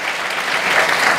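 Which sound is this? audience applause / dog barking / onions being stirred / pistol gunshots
audience applause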